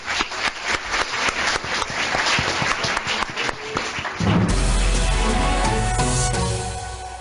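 Audience applause after a school radio interview at Colegio Obradoiro, dense clapping for about four seconds before giving way to a loud music jingle with a heavy low end.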